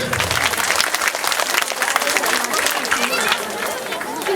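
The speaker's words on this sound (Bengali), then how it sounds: "সবাই একটু জোরে হাততালি দেবেন।" Loud, dense applause from a crowd at an annual school cultural program, steady clapping filling the whole stretch with a murmur of voices beneath.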